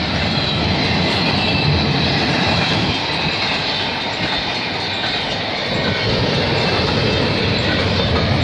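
A CN/CP intermodal freight train passes near Milton, Ontario, a loud continuous roar of rolling cars with rumbling wheels and clickety-clack over rail joints, steady from start to finish.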